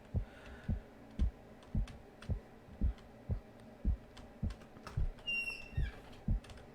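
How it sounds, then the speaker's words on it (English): Computer keyboard clicks from typing, a steady stream of soft, close taps at a fairly even rhythm heard faintly in the background, with a brief whistling tone near the end. "Sorry if you can hear the keyboard clicks in the background."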